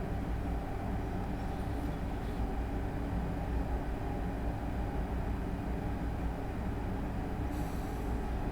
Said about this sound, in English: I need to help the train actually accelerate